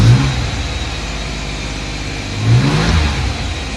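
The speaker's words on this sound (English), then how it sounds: "I should really just be able to press this button and that should start the car" A Ford Sierra XR4x4 fitted with a 2.9 Cosworth 24-valve engine cranks and catches, then runs at a loud, steady idle with a brief rise in revs partway through.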